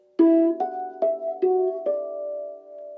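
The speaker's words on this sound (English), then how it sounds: "you're only hearing one note at a time because I'm muting the last note when I hit the next note" A mallet instrument played with mallet dampening sounds five separate struck notes at an even pace, each muted as the next is hit, so only one tone rings at a time and the last one sustains. The notes are clear and alone.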